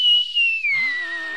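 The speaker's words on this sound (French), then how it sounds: "Il siffle! Il n'a jamais sifflé aussi fort." A loud, shrill whistle sound effect from a French radio serial holds one high sustained tone, then slides lower with a rougher, breathier edge for a short burst.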